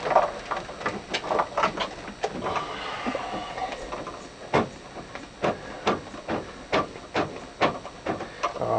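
A drain cleaning tool spins inside a shower sump drain on a sailing boat, making a steady run of sharp clicking and rattling taps, close and fairly loud, with uneven bursts as it works through the blockage.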